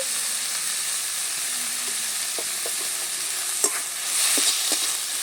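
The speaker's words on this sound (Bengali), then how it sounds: "আবারও থানকুনি পাতার সাথে বেশ ভালোভাবে এবারে মিশিয়ে একটু নেড়ে চেড়ে রান্নাটা করে নেব।" Fish curry with thankuni leaves in mustard oil sizzles steadily in a pan, with a spoon scraping and stirring in a few light knocks, the frying hiss swelling louder near the end.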